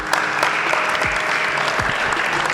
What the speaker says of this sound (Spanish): un aplauso para Roque